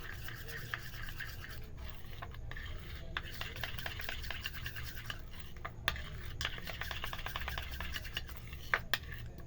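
Thick paste of beetroot powder and corn flour mixed with milk is stirred steadily in a small bowl, a continuous close scraping and rubbing with occasional light clinks of the spoon against the sides.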